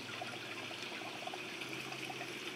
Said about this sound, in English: So that is my bell siphon down there.